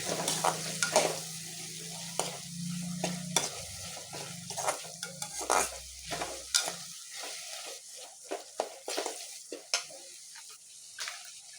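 Pasta sauce cooks in a pan over a medium flame, with a soft sizzle under repeated scraping stirs of a utensil against the pan, close and fairly quiet, and a low hum early on.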